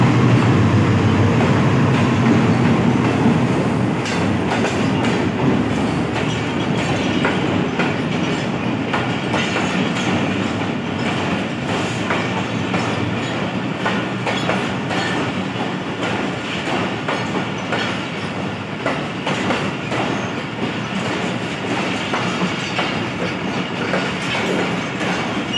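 Passenger train GU9017 on the Karachi–Peshawar route runs through Multan Cantonment station at speed, a loud continuous rumble with rhythmic clickety-clack of wheels over rail joints, close by and steady throughout with no talking.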